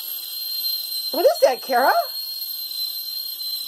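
A steady, piercing kettle whistle holds its pitch throughout, while a person briefly talks over it in the middle.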